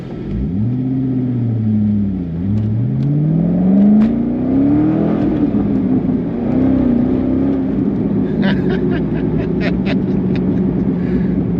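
A 2006 Chevrolet Corvette C6 accelerates hard in a loud, deep, close engine pull, rising in pitch through the revs, briefly dropping at a shift, then climbing again before settling into a steady roar.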